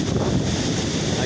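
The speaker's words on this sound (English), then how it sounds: "very strong wind along the Chichaqua Bottoms Trail" Strong wind on an open rural bike trail, a loud steady roar buffeting the microphone for the whole moment.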